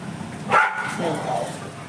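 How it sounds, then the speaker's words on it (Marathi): A dog gives a short bark and a yip amid playful scuffling among several dogs in a residential colony during rain, close by, with background noise throughout. "आणि इकडे चालू आहे कुत्र्यांची मस्ती"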